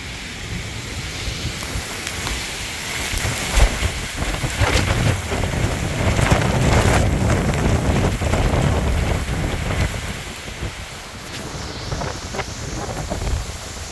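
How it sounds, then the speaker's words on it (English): Strong wind gusts roar and buffet the microphone during a thunderstorm with 60-70 mph gusts near Athens, Georgia, a loud, continuous outdoor rush with rain-like hiss that swells and eases over several seconds. "Wind's coming from here."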